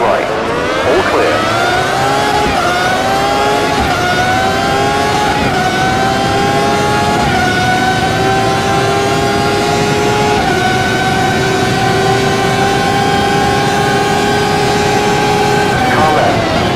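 Formula V12 race car engines in the Automobilista racing game at Montreal, a loud continuous high-pitched howl with rising pitch as gears climb, shifting in steps, persisting throughout with a spotter's voice heard over it.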